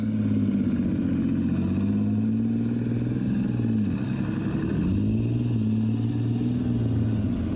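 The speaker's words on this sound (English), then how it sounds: "Powered by its vast rear-mounted Rolls-Royce CV12 turbocharged diesel engine, this thirsty beast can move at a healthy 56 kilometers an hour." A Challenger 1 main battle tank with a rear-mounted Rolls-Royce CV12 turbocharged diesel engine runs nearby, a deep continuous droning rumble whose pitch dips briefly and then recovers, with no talking.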